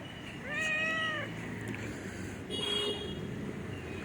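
A pet cat gives two meows, a clear rising-falling one followed a couple of seconds later by a fainter, shorter one, against a quiet room hiss.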